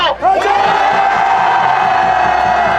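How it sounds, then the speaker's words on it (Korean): A big crowd at a political rally in Korea roars, cheers and shouts together in a loud, sustained wall of voices that swells after a brief dip at the start and holds steady. "우리의 함성을 멈추지 말아주십시오"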